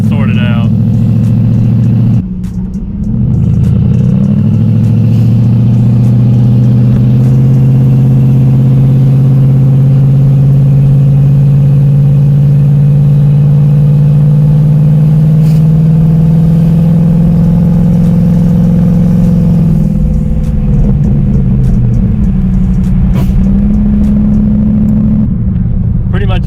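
A turbocharged Ford Thunderbird drives along with a loud, close engine drone that rises and falls slowly with throttle, with short dips where the revs drop, and a person talks over it.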